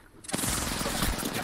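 A short, rapid burst of automatic gunfire from the video game Apex Legends erupts after a brief quiet moment and rattles on steadily at close range.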